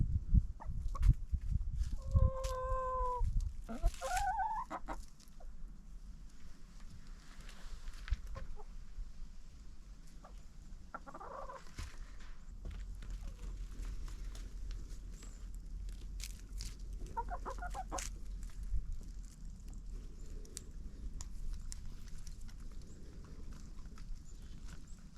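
Hens cluck a few times near the start inside a home-built wooden chicken coop, then the scene settles into a low steady rumble with faint scattered knocks and an occasional soft cluck.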